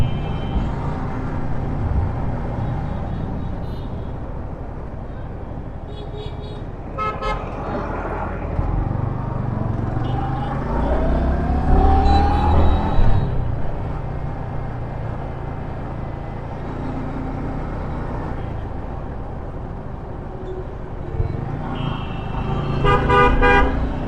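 A busy street in Kushtia, where buses and other vehicles rumble past steadily and horns give several short toots and honks, with a heavy engine passing close in the middle.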